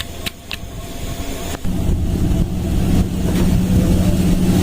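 A motorcycle engine running with a worn bearing and connecting rod, a steady low mechanical drone that grows louder and denser after a couple of seconds and continues without a break.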